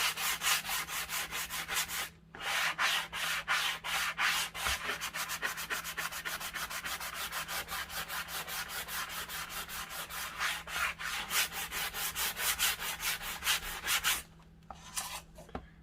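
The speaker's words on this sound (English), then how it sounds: "But I'm also going to sand down on top just a little bit to just get a little bit of a distress." Sandpaper rubs along the edges and top of a wooden hanging sign to distress it, making a close, steady run of rapid rasping strokes that pauses briefly twice.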